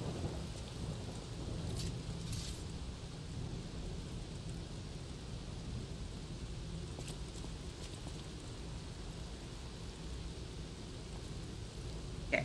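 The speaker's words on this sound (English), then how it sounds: "Alright, still raining." Steady rain pours with low rumbling thunder in the video game Lies of P, a constant dense hiss of rainfall with a deep rolling undertone throughout and no voices.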